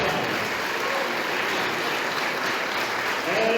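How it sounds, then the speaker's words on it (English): An audience at a debate competition results announcement breaks into a big round of applause, a continuous dense wash of clapping filling the room, loud and steady. "Let's give them a very big round of applause."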